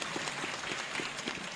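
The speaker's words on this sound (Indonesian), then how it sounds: "Tepuk tangan untuk beliau." Brief applause from a large gathering at an Islamic alumni assembly, a continuous dense patter of clapping heard mid-stream with no clear start or end.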